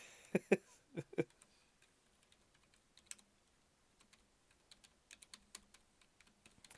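Typing on a computer keyboard, a run of light, irregular key clicks with a few louder taps at the start, fairly close and quiet, with no talking over it.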